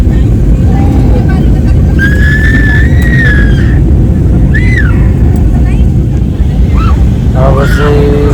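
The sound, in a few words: airplane cabin noise during descent for landing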